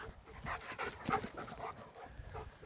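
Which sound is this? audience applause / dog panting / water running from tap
dog panting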